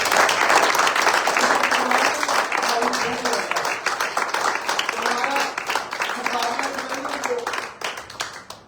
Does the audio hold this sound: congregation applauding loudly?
yes